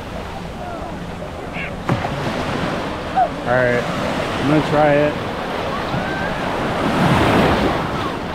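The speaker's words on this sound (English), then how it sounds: "And the waves are pretty decent." Ocean waves roll and wash onto a rocky beach in Bimini, a steady surf wash with wind buffeting the microphone while a person speaks briefly over it.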